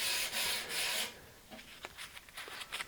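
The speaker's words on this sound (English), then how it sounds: "Now to sand this, I will use a little bit of 180 grit." Hand sanding of a bare wooden chair top with 180 grit sandpaper, close steady rubbing strokes, loud at first then thinning into lighter scattered scrapes, no talking.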